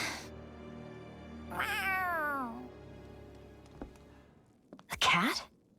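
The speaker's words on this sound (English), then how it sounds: "A cat? Where'd it come from?" A cat in the video game Tales of Arise gives a clear, drawn-out meow that falls in pitch, followed a few seconds later by a shorter, sharper meow over a quiet game backdrop.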